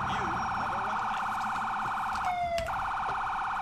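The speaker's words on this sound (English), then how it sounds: "Oh, turn the siren off." A police car siren in a video game set in Liberty City wails loudly and continuously, with fast, warbling cycles. Near the end the tone briefly cuts and shifts, and traffic noise hums underneath.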